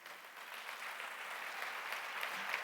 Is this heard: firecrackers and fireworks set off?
no